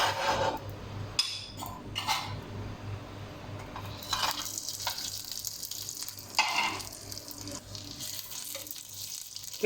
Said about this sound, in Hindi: एक एक करके चिकन लेग को ऐड करते जाएंगे।